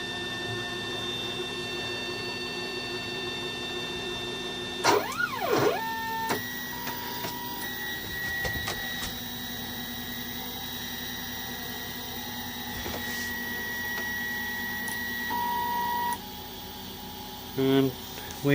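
A 3D printer runs a slow, cautious test print in ABS on a heated bed. Its stepper motors whine and warble in shifting tones, with rising and falling sweeps and short pauses over a steady mechanical hum.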